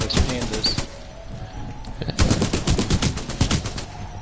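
Guns firing in the video game Titanfall 2, a dense run of rapid, loud automatic bursts with a brief lull in the middle before firing resumes, heard on its own with no talk.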